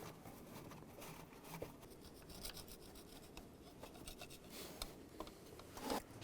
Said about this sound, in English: and a rag and just wipe down where the manifold gasket's gonna go